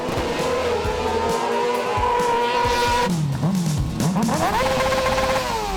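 Autocross race car lapping the track at an FIA European Autocross Championship round, a loud continuous engine roar rising and falling through gear changes with tire noise, close and dominant throughout.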